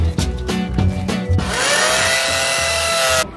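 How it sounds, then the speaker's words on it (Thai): A few sharp knocks, then a power drill drilling holes in a steel roof beam spins up into a steady high whine that runs for about two seconds before cutting off. "เดี๋ยวเราจะขึ้นไปไล่เจาะสว่านครับตามรูต่างๆข้างบนเลยครับ"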